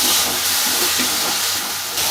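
Onions and green chillies with salt frying in a pan make a loud, continuous hiss that holds steady from start to finish.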